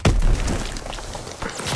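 A grenade blast in a WW2 shooter hits with a sudden loud, low thump, then rumbles away briefly before a second softer impact near the end.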